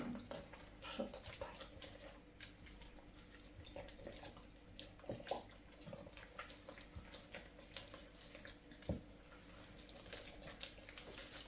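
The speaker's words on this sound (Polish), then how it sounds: "Ja to wszystko wleję, proszę Państwa. Czyli równy litr wody" A litre of water runs and splashes steadily into a bowl for wholemeal bread dough, a soft continuous trickle with occasional gurgles and clinks, fairly quiet and close.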